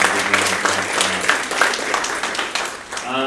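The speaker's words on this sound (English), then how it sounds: "let's give Westminster a big round of applause for that" Staff at an all-associate workplace meeting break into applause, a dense wash of many hands clapping steadily throughout, with voices murmuring underneath and a speaking voice rising near the end.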